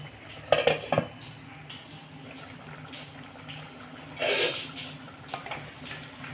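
A cooking pot being covered with its lid, a couple of quick metallic clinks near the start and a short scraping rattle later, over a faint background simmer, with no voices.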